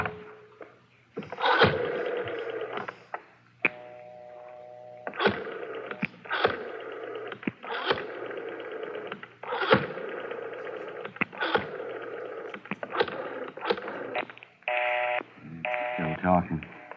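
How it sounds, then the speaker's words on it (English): A telephone number is dialed in a radio drama, with a run of clipped touch-tone beeps and bursts of line sound spread across the scene, punctuated by short pauses and mixed with voices. "Dial 9 to get outside, Garvey."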